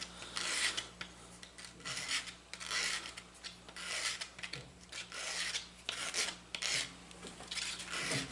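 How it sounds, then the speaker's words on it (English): Belt sander grinding small pieces held in a jig while adding a back bevel: a close, steady abrasive rasp in repeated surging passes, each stroke swelling and easing over a constant motor hum, with no talking. "I'm actually kind of sanding them and putting a little back bevel on them at the same time."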